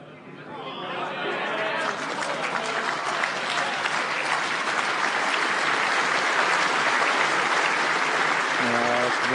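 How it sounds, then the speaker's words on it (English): A large crowd applauds steadily at a bowls final at Hopton-on-Sea, sustained clapping with crowd chatter throughout, loud and close, building slightly and holding. "It's a wonderful large crowd here at Hopton-on-Sea."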